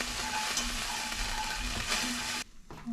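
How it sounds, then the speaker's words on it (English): Flour browning in a hot pan for pot roast gravy from a 1920s recipe, giving a steady close sizzle with light stirring that cuts off sharply near the end. "We're going to brown this flour and then thicken it."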